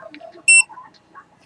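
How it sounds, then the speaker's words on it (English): A single short, high electronic beep from a body camera starting to record sounds once amid faint background noise. "You'll hear the beep to let us know it's recording."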